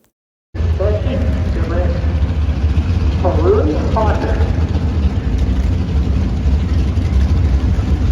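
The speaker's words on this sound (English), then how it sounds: "So here goes that Dodge Challenger." A Dodge Challenger muscle car's engine at a drag strip: a loud, steady low rumble that starts abruptly and holds, with a crowd chattering underneath.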